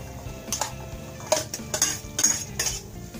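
Field beans are stirred into a Chettinad-style masala in a pan, with a metal spoon clinking and scraping against the pan in several short strokes, close and fairly quiet, with only faint frying underneath.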